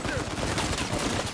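Gunfire from a multiplayer video game, heard as a loud, dense burst of rapid shots that rattles on without a break through the short moment.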